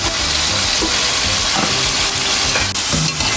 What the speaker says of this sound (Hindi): ये देखिए ये हमारी चिकन फ्राई होना शुरू हो गई है